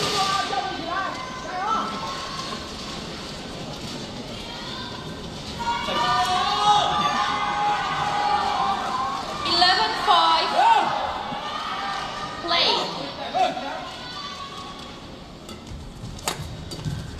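A home crowd cheers and whoops at a Japan Open 2023 badminton semifinal, swelling loudly in the middle before settling back, with a commentator talking throughout.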